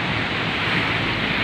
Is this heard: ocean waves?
yes